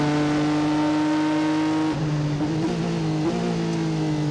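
GTE race cars accelerate at the WEC 6 Hours of Nurburgring, a loud engine note holding steady before a gear change drops and then climbs again, with another engine overlapping, without talk.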